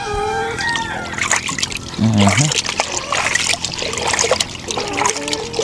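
Water sloshes and trickles as a mixture is stirred close by, with a person talking over it and a brief low tone partway through.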